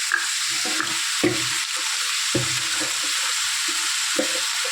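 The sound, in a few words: frying potato, pointed gourd and fish roe with turmeric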